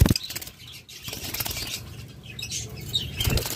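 A pair of split blue budgerigars flutter inside a cage, with soft bursts of wing flapping and light scrabbling patter, close and quiet, with no talking.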